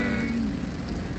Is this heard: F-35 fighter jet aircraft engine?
no